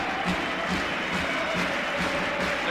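A basketball crowd in Salamanca cheers and applauds at a women's EuroLeague game, Perfumerias Avenida against Spar Girona, in a dense, continuous wash of clapping and crowd noise.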